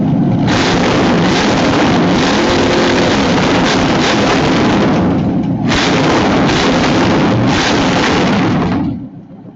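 A small four-stroke engine runs loudly and steadily, a rough broadband roar that briefly dips midway, then picks up again before cutting off near the end.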